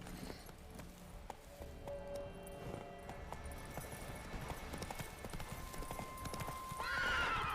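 Roach the horse in The Witcher 3 game, faint rhythmic hoof clip-clop under a low ambient game soundscape, ending in a rising whinny near the end.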